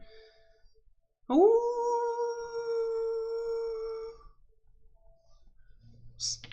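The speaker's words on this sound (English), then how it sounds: "a variety of howls take the night" A single wolf howl rises and holds steady for about three seconds on a quiet night, fairly loud and close, then fades into near silence with a faint click at the end.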